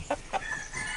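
Short, close calls come from a rooster or chickens in a pen that holds one large cockerel, two quick bright squawks followed by softer chatter.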